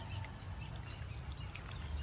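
A few faint, high chirps from sparrows sound over a low outdoor early-morning rumble, brief and somewhat distant.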